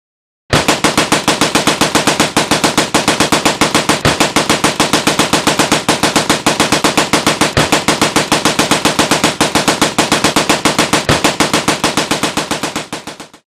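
A machine gun fires one loud, unbroken burst of rapid, evenly spaced shots for about thirteen seconds, then stops.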